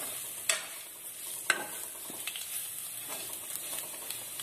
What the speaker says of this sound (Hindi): थोड़ी सी हम इसमें मेथी डालेंगे, सूखी मेथी, इसको हिला देंगे अच्छी तरह से।